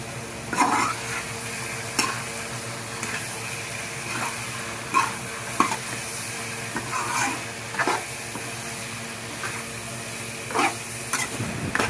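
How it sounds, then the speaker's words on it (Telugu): Eggs being stirred into a tomato and capsicum curry in a pan, with repeated scraping strokes at an irregular pace over a steady low sizzle, close and moderately loud, no voices. "ఆ తర్వాత గుడ్లు వేసుకొని బాగా కలదిప్పుకోవాలి"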